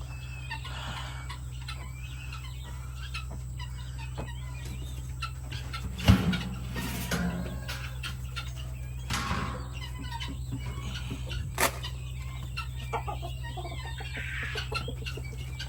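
Chickens clucking softly in the background over a steady low hum, with a few brief louder clucks and scattered bird calls.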